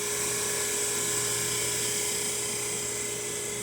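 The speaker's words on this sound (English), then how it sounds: "One of the things I like so much about this sander, you can get down really thin." Power sander thinning figured maple guitar wood for a 12-string build, a steady high-pitched whine held constant and close, with no talk.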